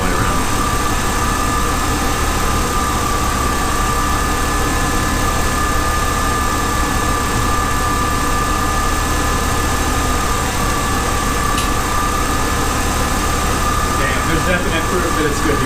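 A repaired electric-converted car's engine idles steadily and close by, a continuous even hum with a faint vibration and no talk over it.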